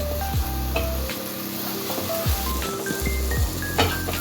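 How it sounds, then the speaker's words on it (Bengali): Ground coriander, cumin, chilli powder and a little turmeric sauté in a pan for sabudana khichdi, giving a steady close sizzle with occasional stirring scrapes and clinks. "এবার আমি এই মশলাগুলোকে ভালো করে কষিয়ে নেব"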